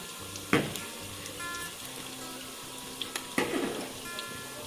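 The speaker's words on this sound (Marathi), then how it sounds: "कांदा तेलामध्ये फ्राय होत आहे" Chopped onion fries in hot oil for a soybean dum biryani, a low steady sizzle punctuated by two sharper clatters from the pan.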